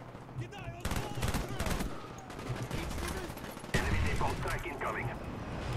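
Rapid bursts of automatic gunfire from a G11 rifle in Black Ops 1 on PC, loud and close, crackling in repeated volleys with a spoken voice running underneath.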